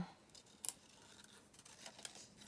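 Scissors trim a playing card for a junk journal, giving a few faint, close snips, one sharper crisp cut standing out over quiet room noise.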